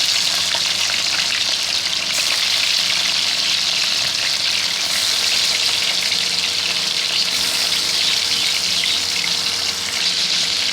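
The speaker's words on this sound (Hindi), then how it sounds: "फिर हम अपनी फ़िश डालेंगे। इसको हम ज़्यादा नहीं पकाएंगे, तो हल्का सा फ्राई करेंगे।" Fish fries in hot oil in a pan, giving a loud, steady close sizzle that holds evenly throughout with no speech over it.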